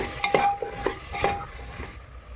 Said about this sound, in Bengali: গাজর, ক্যাপসিকাম আর মটরশুঁটি দিয়ে কিছুটা ভেজে নেব।